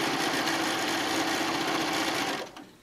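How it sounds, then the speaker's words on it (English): A sewing machine runs continuously, stitching piping onto the edge of a zippered pillow, a loud close whirring hum that cuts off near the end. "So we've got our edges together and we're continuing on. And if you missed it, you're gonna get to see it three more times. All right, so we sew our piping on."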